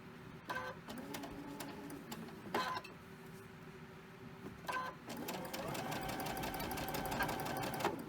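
A sewing machine stitches a children's fabric mask, running in short slow runs around a curve with a few clicks between them, then settling into a steady continuous whir near the end, fairly quiet and close.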